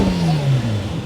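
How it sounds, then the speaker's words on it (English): Lamborghini Temerario V8 supercar revving close by, one short rising-and-falling engine blip in a brief, loud burst with no speech over it. "she does not like the revving"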